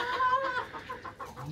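An agitated rooster and hens in a backyard coop cluck and squawk loudly and close, in a rapid, uneven burst of calls with no talk.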